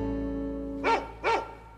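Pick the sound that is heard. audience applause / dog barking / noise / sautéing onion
dog barking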